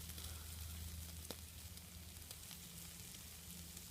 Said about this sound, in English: while I'm cooking the bacon